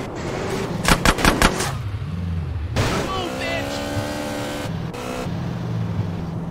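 Machine gun fire in GTA San Andreas Remastered: a quick burst of sharp rapid shots, followed by car engine revving and skidding tones with more gunfire bursts, loud and close within continuous game noise.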